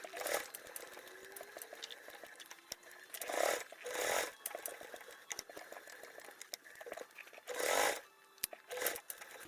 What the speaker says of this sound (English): with top stitch, I like to do a nice long stitch length